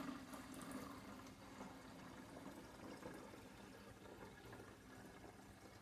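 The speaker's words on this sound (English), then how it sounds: "I'm going to strain off the grains." Kefir water being poured through a strainer to catch the grains after 48 hours in sugar water, a steady, faint liquid trickle and splash running for about six seconds with no talk.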